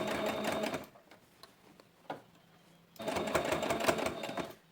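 Sewing machine stitching the lining of a fabric glasses case, two bursts of dense rapid needle clatter separated by a quieter pause with a brief knock, close and loud.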